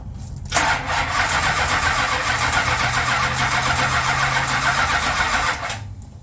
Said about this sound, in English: I don't know why it ain't starting